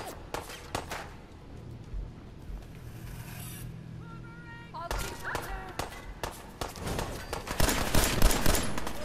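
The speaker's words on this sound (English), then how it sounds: "What the fuck are you shooting at?" Gunfire in the video game Fallout 4, with bursts of sharp cracks and rapid shots, sparse early on and then dense and loud toward the end, mixed with voices talking.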